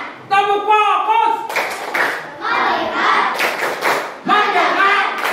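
Pupils in an elementary classroom chant in unison and then clap hands together in quick, patterned group bursts, loud and close, alternating with their voices.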